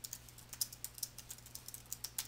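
Typing on a computer keyboard, a quiet, rapid run of light key clicks in an uneven rhythm, close and alone with a soft background hum.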